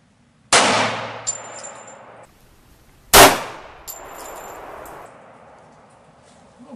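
A 9mm bullet strikes an armor plate with a sharp, loud metallic clang, followed by a second, even louder clang about three seconds later, each ringing out and fading with faint tonal ring.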